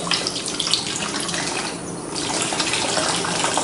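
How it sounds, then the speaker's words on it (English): Fuel drains from an old carburetor's tank through the open fuel line in a strong, steady stream, a continuous close rush of liquid that runs the whole time with no talking. "Drain this tank out. That tank's got some good flow."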